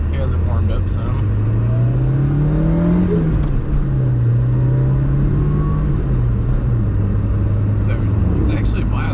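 A 1990 Fiat Uno Turbo Phase II engine revs and spools its turbo, the whine rising and falling in steady sweeps over a loud continuous rumble, with voices talking faintly alongside.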